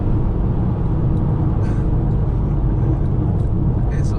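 A Ford Focus ST2 accelerates hard in second gear, heard from inside the cabin as a loud, steady low engine rumble with road noise underneath.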